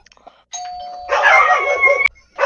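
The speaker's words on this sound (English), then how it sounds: "Sounds like Jay just had someone ring the doorbell." A doorbell rings loud and close with a clear two-tone ding-dong chime, sustained briefly before cutting off, with another chime starting right after.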